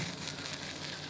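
Tomato sauce poured into a hot pot of Egyptian turli stew with meat, giving a soft, steady sizzle, faint and close.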